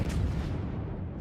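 Battleship Kawachi main guns fire in the naval game World of Warships, a dense, rumbling boom of heavy artillery that sustains and slowly fades across the clip, loud and without talk.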